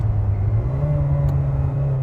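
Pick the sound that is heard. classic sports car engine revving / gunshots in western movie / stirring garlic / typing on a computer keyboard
classic sports car engine revving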